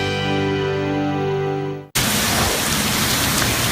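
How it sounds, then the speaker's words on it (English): Fierce wind driving rain sideways during an Arizona storm, a dense roaring wash of noise that cuts in abruptly halfway through after a steady tonal sound, loud and continuous with no voices. "Fierce wind pushing the rain sideways in Arizona."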